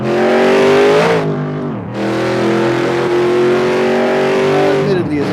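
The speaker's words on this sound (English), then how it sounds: "admittedly, it's not the very best V8 sound it could be, but it's pretty close." A V8 car engine revs hard up and down, its pitch climbing, dropping sharply, then holding a loud sustained roar before easing off at the end.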